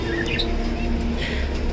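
Pet sun conures give a few short, high chirps close by, quick and bright against a steady low background hum.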